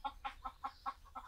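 Chickens clucking in a quick, even run of about six short clucks, fairly close and moderately loud, with no talking.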